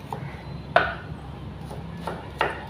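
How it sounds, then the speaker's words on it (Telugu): A knife chopping onions for onion pakoda on a board, four or five separate sharp cuts spaced irregularly, close and fairly quiet, with no talking. "ఆనియన్ పకోడీకి ఉల్లిపాయలు కోస్తా ఉన్నాడు"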